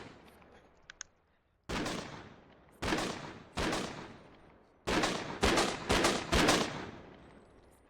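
Loud gunshots in the video game BodyCam, with gun volume at maximum: a series of sharp single shots with echoing tails, spaced apart at first, then a quicker cluster near the end, no talking.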